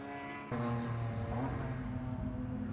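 A Corvette race car rumbles past on the Barber circuit in a World Racing League qualifying session. It sets in abruptly as a loud, deep, steady engine drone that holds its level as the car passes close by.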